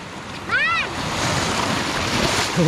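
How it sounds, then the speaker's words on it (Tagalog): Ocean waves wash onto a beach in a continuous, fairly loud surf roar with wind buffeting the microphone, and a brief high voice cry rises near the start. "Antayin nyo lang yung alon."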